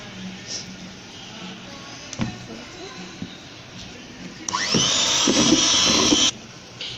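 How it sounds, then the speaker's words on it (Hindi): An electric hand beater whirs loudly for about two seconds as flour is mixed into chocolate Swiss roll batter, following quieter kitchen clatter and faint handling noises. "अब इसमें थोड़ा थोड़ा मैदा डालते जाएंगे और बीटर चलाते जाएंगे।"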